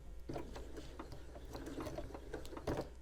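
A home sewing machine runs a short burst of reverse backstitches while piecing a quilt block, its needle mechanism ticking in a quick, close, steady rhythm with no voices.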